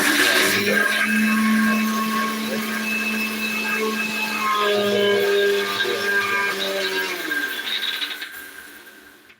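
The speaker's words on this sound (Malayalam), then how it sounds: "ഇത് ഏലക്കയാണ് ഏലക്ക ചതച്ചെടുക്കണം" Cardamom pods crushed in a mixer grinder for fried rice: a loud, steady motor whir with a rising tone that runs nearly nine seconds, then winds down and stops near the end.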